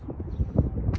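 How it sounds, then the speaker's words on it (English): Gusty spring wind buffets the microphone outdoors on a Western New York homestead, a steady low rumble with swelling bursts throughout the short stretch, no voices. "I got to apologize for the wind."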